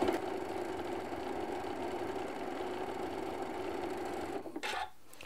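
Sewing machine stitching through three fabric layers of a quilted Christmas tree decoration, a steady even whirring hum close by, stopping abruptly near the end after a few brief handling sounds.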